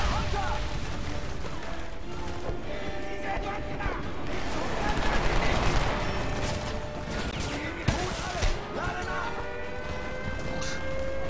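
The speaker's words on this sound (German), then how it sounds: "Schüsse auf meine Stellung." Dense bursts of gunfire in the video game Homefront crackle through a noisy battle mix, with voices talking over the shots and an occasional sharper blast.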